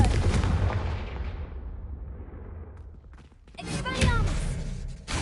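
A Confringo blasting spell in Hogwarts Legacy erupts with a loud, booming explosion that decays into rumbling debris, followed by a second crackling burst near the end.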